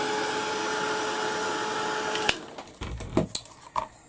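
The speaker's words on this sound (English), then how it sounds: "give it a quick blast with the heat gun to get rid of all the glue strings." A heat gun blows a steady, whining hiss over glue strings on a mixed media steampunk canvas, then cuts off abruptly, followed by a few close knocks and handling clatters.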